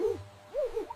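An owl hooting in a children's alphabet song, a few short wavering hoots at moderate volume against a soft musical background.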